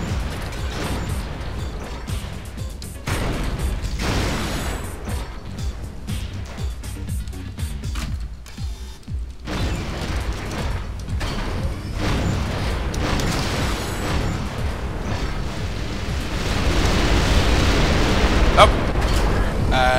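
In Descent 3, homing missile turrets get sniped amid rumbling explosions, crashes and mechanical whirs, with blasts swelling and fading over about twenty seconds and growing louder toward the end while a voice talks at times.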